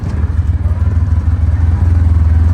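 A Yamaha Rhino UTV in four-wheel drive engine braking, a loud, low, throbbing engine drone with a steady pulsing rhythm, close and unbroken.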